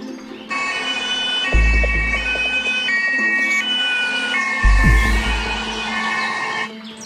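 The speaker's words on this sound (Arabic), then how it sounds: "عربية الاسعاف هتيجي حالا" An ambulance siren wails in a steady two-tone pattern, loud and close, with a couple of heavy low thumps underneath and no talking.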